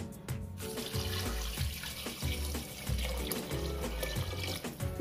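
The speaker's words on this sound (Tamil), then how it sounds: "இப்போ நம்ம தேவையான அளவு தண்ணி விட்டுறலாம்." Water is poured into a cooking pot while making nonbu kanji, a steady splashing stream with a soft rhythmic thumping pattern underneath, moderately quiet and without speech.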